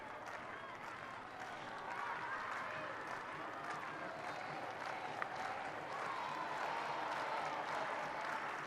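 A crowd at a field hockey stadium in Rosario, at a World League Final, cheers and claps in a sustained, distant roar that swells slightly as it goes, heard faint and broad behind the broadcast.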